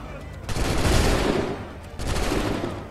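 Gunfire breaks out in Assassin's Creed 3 as two loud volleys of musket shots, each a dense crackling burst lasting about a second, separated by a brief pause.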